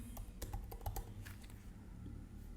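Keys clatter on a computer keyboard in quick irregular bursts, close and fairly quiet, as a short entry is typed during a software setup.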